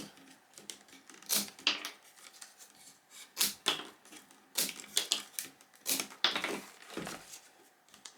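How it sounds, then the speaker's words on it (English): Scissors cut and trim the ends of a basket to leave a feathered top on a pumpkin basket, producing a series of crisp, close snipping crunches in an uneven rhythm, with no talking. "And what I'll do now is I'll trim these up on top here."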